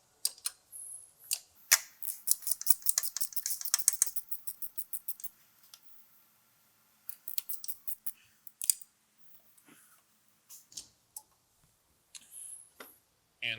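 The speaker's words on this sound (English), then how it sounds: "There's a third one at the bottom that we're going to get with the ratcheting wrench." Ratchet wrench working a bolt loose on a car AC compressor during a 1988-92 GM F- and B-body serpentine compressor swap: a dense run of fast clicking ratchet strokes, then shorter bursts of clicks with pauses, close and fairly quiet.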